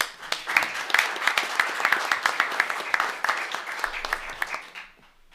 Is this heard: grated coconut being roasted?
no